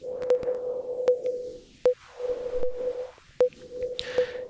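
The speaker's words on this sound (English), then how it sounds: "now the sine wave is modulating that top frequency." Synthesized sine wave tone whose top frequency is modulated by another sine wave, a steady electronic pitch broken by sharp clicks and swells, with a brief higher warble near the end, no talking.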